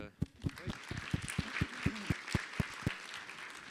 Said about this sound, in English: we'll give a clap of hands, please